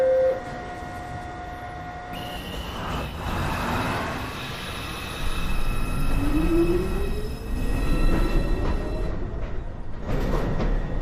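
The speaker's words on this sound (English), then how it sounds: "Downtown Express 2 train. Approaching the station, please stand away from the platform edge." A New York City subway 2 train, a Downtown Express, pulls into 207th Street station with a rising rumble and squealing wheels that swell louder as it nears. A steady tone and faint announcement chimes sit over the roar.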